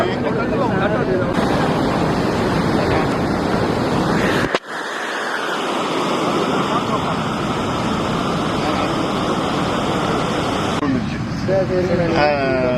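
Water roars steadily through a dam shutter in a flood-affected area of Ariyalur, a loud, continuous broadband rush with a brief dip midway; a voice is heard briefly near the end.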